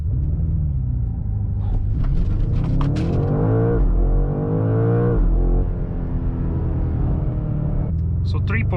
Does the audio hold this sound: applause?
no